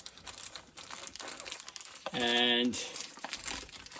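Crinkling and tearing of packaging as a new, unopened Dior Sauvage cologne box is unwrapped, a soft rustle running under quiet talk with a brief, louder tearing burst.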